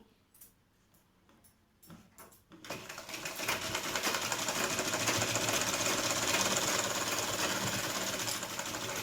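A sewing machine stitches a kids' lehenga. A few soft taps come first, then a steady fast whirring run starts about two seconds in and continues close and even to the end.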